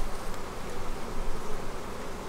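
Honey bees buzz steadily over a hive frame during a beekeeping inspection, a dense, continuous close-up hum with no voices.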